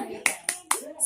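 A teacher leads a rhythmic classroom clap, three sharp claps evenly spaced about a quarter second apart, loud and close, with a voice chanting faintly underneath.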